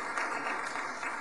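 Audience at a city council meeting applauding, a dense, even wash of clapping hands held at a moderate level throughout, with no talk over it.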